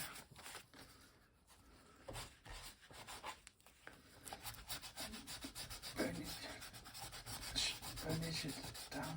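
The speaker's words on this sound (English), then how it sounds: "Burnish it down here." Glued collage paper on a concertina book is burnished flat by hand, a dry rubbing and scraping texture in short strokes that grows steadier and slightly louder toward the end, with no one talking.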